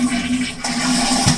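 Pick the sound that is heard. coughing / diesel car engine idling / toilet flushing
toilet flushing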